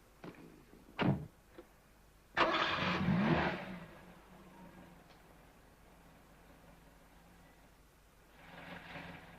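An old car engine turning over and catching after a breakdown, preceded by a couple of sharp door-like knocks, then a loud burst of cranking and revving that settles into a low idle, swelling again at the end.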